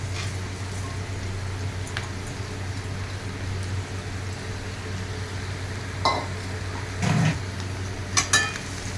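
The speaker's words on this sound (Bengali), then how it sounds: "এবার চালটাকে আমি এটার সাথে ভালো করে মিশিয়ে নেব। 2 থেকে 3 মিনিট আমি একটু ভাজা ভাজা করে নেব।" Spiced rice for paneer pulao stirred and fried in a pan over a steady low frying hum, with a few sharp scrapes and clinks of a spoon against the metal near the end.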